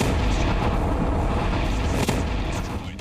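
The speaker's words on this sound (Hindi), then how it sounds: "बम पहले इमारत की छत पर गिरता है और फिर बिल्डिंग के अंदर बड़ा धमाका होता है" A bomb strike on a building in Beirut produces a loud, dense, rumbling blast that fills the whole stretch, with a sharp crack near the middle before the roar slowly tapers off.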